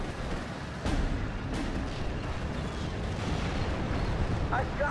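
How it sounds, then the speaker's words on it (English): Mortar fire in Steel Division: Normandy 44 sounds as dull booms and rolling blasts over a constant battlefield rumble, with a couple of sharper impacts. "he's got mortars. You have all lots and lots of mortars."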